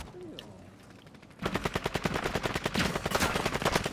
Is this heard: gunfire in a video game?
yes